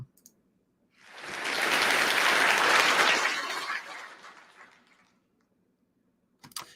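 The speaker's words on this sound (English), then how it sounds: "you guys hear the applause at least?" A burst of applause at a TEDx event rises quickly, holds for a few seconds and tapers away, with brief clicks at the start and end.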